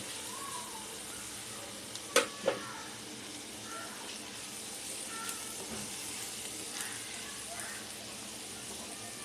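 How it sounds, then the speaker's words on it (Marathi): A soft, steady sizzle comes from tomato added to garlic paste over lowered gas for a fresh javla chutney, with a couple of sharp utensil clicks and someone speaking quietly nearby. "हा टमाटा टाकून घेतोय"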